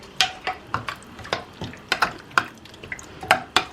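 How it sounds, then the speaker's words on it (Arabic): A spoon stirring Iraqi dolma filling in a cooking pot, with a dozen or so distinct scraping clinks against the metal at an uneven pace, close by and alone. "نخلط زين."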